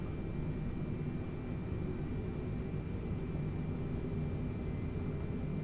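Airliner taxiing onto the runway in a flight simulator game, heard as a steady, even engine rumble and hiss with a faint constant whine, no talk.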